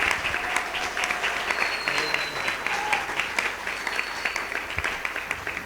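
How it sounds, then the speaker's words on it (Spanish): An audience at a religious debate event applauds steadily, a dense even wash of clapping sustained throughout, with some voices faintly mixed in. "fuerte aplauso para la hermana"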